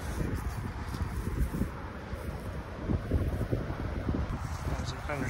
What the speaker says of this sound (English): it's pretty heavy left to right wind right now